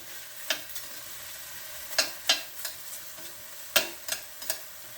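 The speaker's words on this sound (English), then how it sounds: "we're just going to saute these around in the pan until they get soft" Onions sautéing in a pan for hamburger steak with onion gravy, with a low steady sizzle broken by sharp intermittent scrapes and clacks of stirring, about eight distinct knocks spread unevenly across the stretch, close and moderately quiet.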